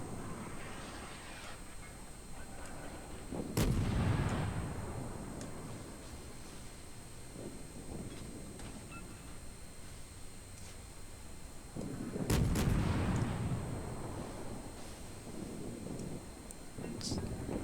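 Naval gunfire from an enemy warship in World of Warships, two heavy booming salvos some seconds apart, each rumbling and then fading, over a constant sea and wind bed, with someone talking at times.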